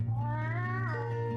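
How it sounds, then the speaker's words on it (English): A bird card in a digital version of the Wingspan board game lets out a clear, synthetic cat-like meow, a single drawn-out call with a falling pitch, played alone over a steady low hum. "Sometimes it goes bok bok bok, but then it goes meow."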